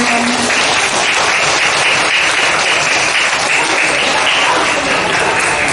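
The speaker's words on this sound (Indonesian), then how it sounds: "Tepuk tangan." Loud, dense clapping from a large group of primary school children during a school orientation day, continuous and even for several seconds with no pauses.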